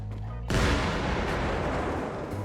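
An explosion in Arma Reforger with a shrapnel mod, one sudden loud burst followed by a dense roaring wash of debris that lingers for a couple of seconds.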